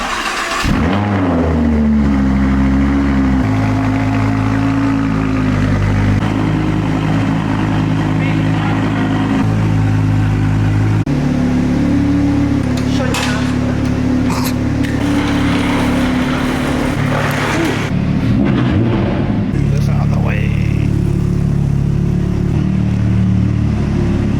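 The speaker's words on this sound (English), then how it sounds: "let's get some exhaust noise and all that" Exhaust of a Lamborghini Huracan Super Trofeo race car revving, a loud, close engine drone that rises and falls through several throttle blips, with brief voices near the end.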